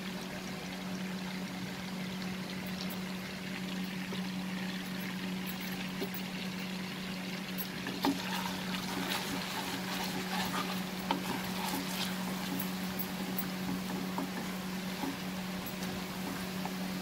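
Chopped garlic sizzles in hot butter in a pan with a steady, close frying hiss. A low hum runs underneath, and faint scraping clicks come through partway.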